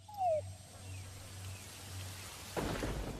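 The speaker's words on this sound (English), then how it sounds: "our intel unit is reporting rain approaching our vicinity." Rain patters steadily in a stealth action game, with a rumble of thunder partway through and heavier rainfall swelling near the end. It is quiet overall, and a faint descending tone sounds at the start.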